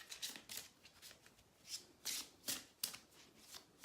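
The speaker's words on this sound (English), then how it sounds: "I'm just shuffling the Archangel guidance cards" Archangel guidance cards being shuffled by hand, a quick series of soft riffling bursts repeating roughly every half second, close and quiet with no talking.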